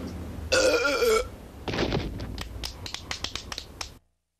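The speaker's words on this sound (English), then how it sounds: "are you burping again?" A loud, drawn-out burp from an animated cartoon character in a burping-contest episode, followed by a string of sharp clicking and rattling snaps that fade out.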